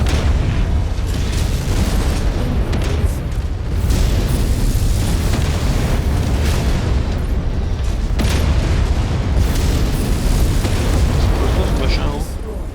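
An LRM-15 missile launcher fires and its missiles burst in Mechwarrior 5 Mercenaries, a dense, loud rumble of booms and explosions that continues throughout under someone talking.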